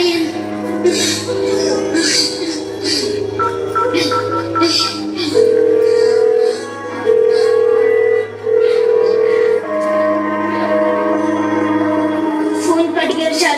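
A telephone call attempt with steady tonal dialing and ringback tones repeating over a sustained musical backdrop, the tones coming in evenly spaced bursts with no talking in between.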